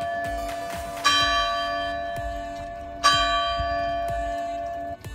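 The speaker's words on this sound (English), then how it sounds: "Sorry for that, the bells." Church bells ring out in two clear strikes about two seconds apart, each leaving a long humming decay over a low outdoor rumble.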